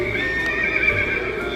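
A Night Dullahan headless horseman Halloween decoration sold at Home Depot lets out a loud, continuous horse neigh and whinny with a clip-clop feel, close and filling the whole moment.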